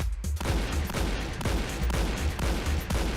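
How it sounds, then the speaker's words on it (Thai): Rapid shotgun fire from a mouse macro in the shooter game Point Blank, dense repeated blasts rolling continuously for about three seconds, loud and close with no talk. "ทีนี้ก็เป็นมาโครลูกซองนะครับก็เดี๋ยวแอดยิงให้ดูนี่นะกดค้างนะครับ"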